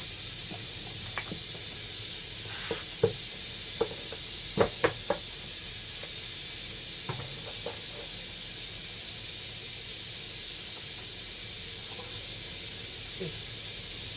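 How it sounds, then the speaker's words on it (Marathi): Bay leaves and whole garam masala spices crackle in hot oil for a clay-pot mutton dish. A soft, steady hiss runs throughout, broken by scattered sharp knocks and taps of utensils on the pot. "तेलामध्ये ना आपण तेजपत्ता वगैरे म्हणजे अख्खे गरम मसाले थोडे थोडे टाकूया"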